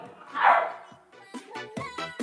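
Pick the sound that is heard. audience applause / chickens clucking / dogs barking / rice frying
dogs barking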